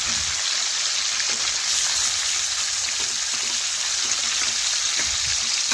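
Catla fish head and cut pieces frying in oil in a wok, a steady loud sizzle that hisses continuously throughout, close and unbroken, with no talking.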